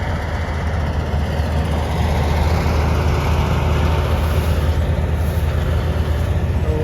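A Mahindra 575 tractor engine runs steadily and loudly close by, a constant low diesel rumble with no talking.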